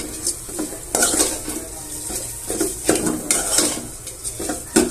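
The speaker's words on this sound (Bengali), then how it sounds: "তেলের ভিতরে সেমাইকে দেওয়া হচ্ছে এখন, তারপর" Vermicelli (semai) fries in oil in a pan while a utensil stirs it, giving repeated scraping clinks against the metal over a soft sizzle, close and irregular.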